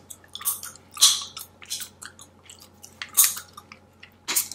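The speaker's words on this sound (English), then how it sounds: "I hope y'all can hear this chewing." Gum chewed with open-mouthed, wet smacking bites close to the microphone, in irregular bursts with short pauses between them and a low steady hum underneath, during a hair-straightening session.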